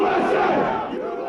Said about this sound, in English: the crowd became intent on storming the building